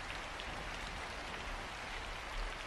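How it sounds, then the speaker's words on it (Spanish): Rain falling steadily on a yellow raincoat hood, a soft continuous patter of drops, faint and even throughout with no voices. "Caía sobre la capucha amarilla del impermeable y a oídos del niño sonaba como lluvia sobre el tejado de un cobertizo."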